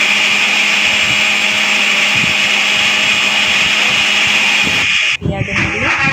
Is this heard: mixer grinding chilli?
yes